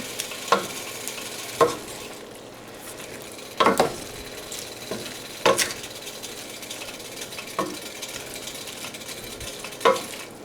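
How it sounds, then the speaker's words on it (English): A spoon stirs a low-carb keto dinner mixture in a frying pan, with several distinct scraping knocks spaced a few seconds apart over a soft steady sizzle, close and moderately loud, no talking. "We're just gonna get this all mixed up."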